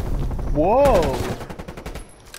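A Groza assault rifle fires in Call of Duty Cold War, a rapid close burst of shots, with a rising and falling voiced exclamation over the opening shots and scattered reports trailing off.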